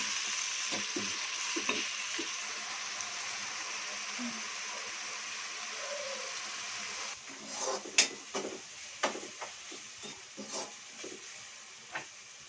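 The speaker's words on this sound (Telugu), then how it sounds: "ఉల్లిపాయ ముద్ద వేగిన తర్వాత మసాలా ముద్ద కూడా వేసి బాగా వేయించుకోవాలి" Onion paste and masala paste frying in a pan for a sea fish curry, a soft steady sizzle with intermittent stirring and spoon scrapes that grow louder and busier toward the end.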